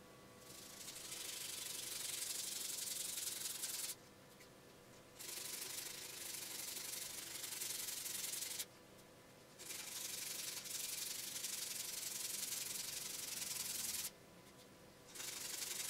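A handmade line-through crankbait fishing lure body being sanded, with steady close scratchy rubbing strokes in three long passes separated by brief pauses, no voices.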